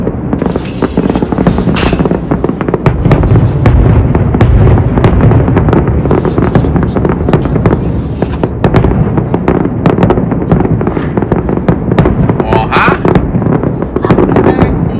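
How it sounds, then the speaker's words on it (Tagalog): Birthday fireworks at the Calgary Stampede burst continuously at mid distance, a loud dense rumble of booms and crackles with no pause throughout, while a few voices murmur faintly beneath. "Yan talaga yung pa-surprise ko, yung fireworks na yan."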